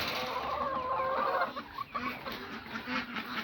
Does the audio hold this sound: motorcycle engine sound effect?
no